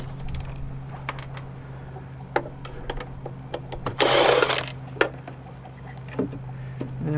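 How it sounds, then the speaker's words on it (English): A filter being pried and pulled off a Beckman DU-64 UV/Vis spectrophotometer during a teardown, with scattered small clicks and taps, then a brief rough scraping rustle midway, over a steady low hum. "Take this filter off first."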